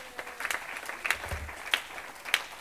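A church congregation at a Sunday service claps in a loose, even rhythm, about four distinct swells of clapping over a quiet room.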